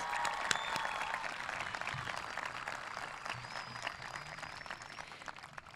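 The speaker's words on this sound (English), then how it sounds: "Give yourselves a round of applause." High school graduation ceremony for the class of 2025: a broad wash of crowd applause, steady but faint and distant, from a large audience for nearly six seconds.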